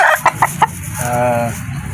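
A few quick chicken clucks up close, followed by a short, drawn-out rooster-like call.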